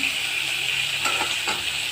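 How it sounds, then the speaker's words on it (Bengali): Steady, close sizzling of onions and whole spices frying in hot oil, with a few soft stirring clinks and scrapes partway through. "এই গরম মশলাগুলো দিয়ে এবার ভাজবো। পেঁয়াজটা দিয়ে দিলাম"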